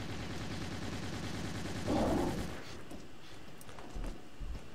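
A big gun fires in the video game Hazrd Ops: one short, rough burst around the middle of a quiet stretch, over a faint rhythmic background.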